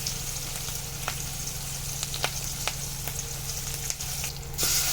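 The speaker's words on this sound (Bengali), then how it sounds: "পেঁয়াজ মরিচ দিয়ে দিল" Onions and chillies fry in a pan with a steady hissing sizzle, punctuated by regular spatula taps and clicks, with a low hum running underneath.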